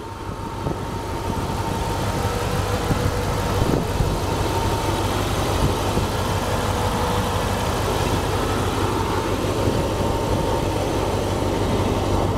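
A 1999 Dodge Durango with a 5.9-liter V8 idling, giving a steady, even low rumble that stays constant and fairly loud throughout, with no voices.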